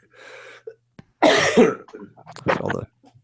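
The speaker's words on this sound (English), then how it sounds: "If I cough, I apologize." Several harsh coughs burst out close by, a short cluster followed by another rough cough or throat clearing, with quieter breathy sounds between.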